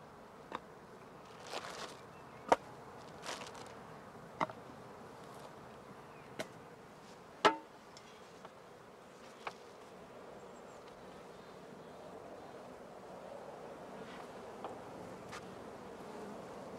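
Honey bees hum around straw skep hives at a heath beekeeping operation in spring, a faint continuous buzz with occasional individual bees passing close and brief louder drones.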